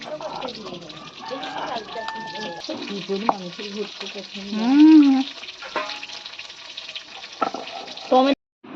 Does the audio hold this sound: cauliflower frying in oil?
yes